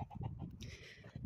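Chickens cluck softly inside a movable chicken tractor pen on fresh grass, a few short close calls in quick succession.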